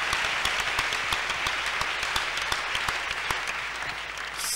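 Congregation applauding in a church at a Thursday evening worship service, sustained dense clapping from many hands filling the room at steady loudness, with no speech over it.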